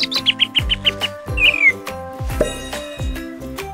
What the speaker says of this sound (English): And the yellow one is a chick.